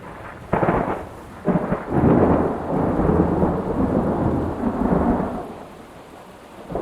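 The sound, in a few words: howling wind and pouring rainstorm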